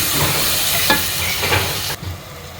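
Shrimp frying with ginger-garlic paste, a loud, dense hiss and sizzle up close with a few stirring scrapes, the noise dropping sharply near the end.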